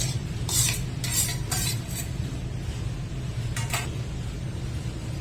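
A spoon scrapes and clinks through a bowl of chopped onion, tomato and sweet corn, steady mixing with a few sharper metallic taps over a low background hum.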